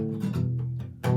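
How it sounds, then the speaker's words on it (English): Chords from a song strummed on an acoustic guitar. The strums sound close and steady, with a few strokes fading before a final stronger strum. "you're muting the strings with your palm to get that rhythm really going"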